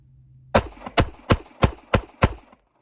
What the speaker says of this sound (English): Just try to get 6 shots, rapid succession into the A zone.